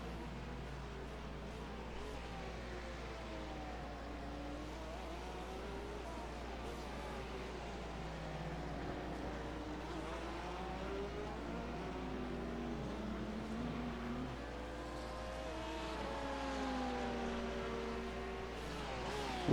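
GT3 race car engines in an IMSA racing game, a steady droning engine tone with slowly wavering pitch and a constant low hum underneath, moderate and continuous throughout.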